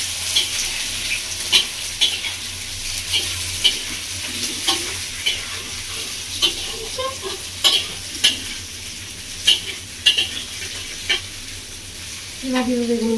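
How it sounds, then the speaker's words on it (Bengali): Cut brinjal pieces fry in oil with fried onion, giving a continuous close sizzle broken by frequent sharp clacks and scrapes of a stirring spoon, with faint voices underneath at moments. "এবার দিয়ে দেবো এর মধ্যে কেটে ধুয়ে রাখি বেগুনগুলো। ভালো করে ভেজে নেব।"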